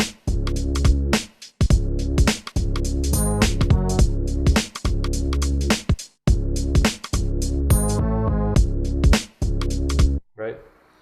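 A finished beat built from one-shot samples in Logic Pro plays on its own, with punchy, full-range drum hits and percussion in a looping rhythm that has short breaks between phrases, loud and close.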